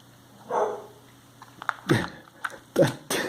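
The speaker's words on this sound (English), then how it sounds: "Did you hear the bark in the background?" A dog barks a few times in quick separate bursts, somewhat distant, with a brief murmur of a voice early on and quiet room sound between.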